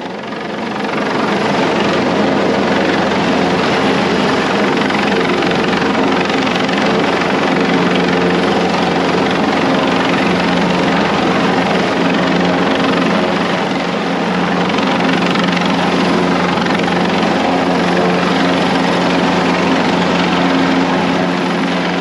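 A helicopter hovers over a cruise liner, the Silver Nova, during a medical evacuation, a loud, unbroken rotor and turbine roar held steady at close range for the whole stretch, with no voices.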